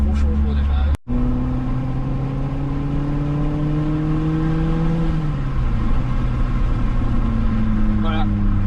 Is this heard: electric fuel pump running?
no